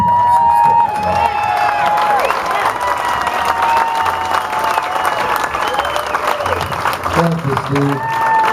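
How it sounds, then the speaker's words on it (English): An audience at a music store's 40th anniversary event applauds and cheers loudly and continuously, with whoops and shouts over the clapping and a few voices and laughs mixed in. "So let's have a big round of applause for Skip Maggiora."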